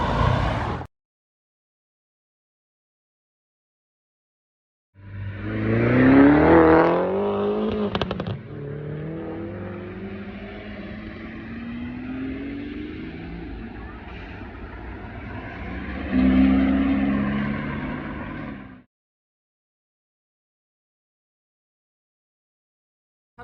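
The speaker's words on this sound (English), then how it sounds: "enjoy the cars coming and going for the time being." Supercars on the Gumball 3000 rally in the UK driving past on a street, engines swelling as they approach and fade away, with a louder surge near the start and another later, separated by silences.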